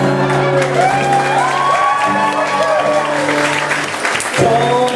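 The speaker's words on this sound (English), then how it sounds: "Don't clap for that." A concert audience in Glasgow bursts into applause with a few cheers while guitar and singing carry on over the clapping.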